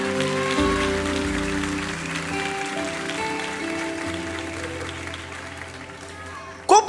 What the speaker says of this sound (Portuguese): Se é para Deus, pode aplaudir.